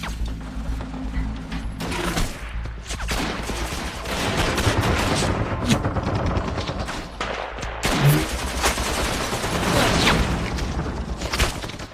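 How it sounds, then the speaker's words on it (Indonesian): Gunfire in a 1939 battle between Polish and German troops crackles in dense bursts, rapid automatic fire mixed with single shots and heavy booms, continuous and loud throughout. "Mereka mulai memasuki area benteng parit Polandia dan seketika kontak senjata terjadi begitu sengit."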